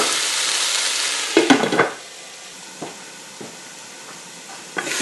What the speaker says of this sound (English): Stirring once or twice and covering the pot to make sure they're all cooked evenly